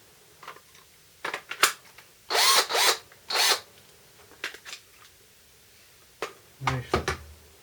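A Dewalt cordless drill with a smoking-motor fault gives short, sharp bursts of its motor whirring, several brief spurts and two longer runs, close up with scattered handling clicks and no talk.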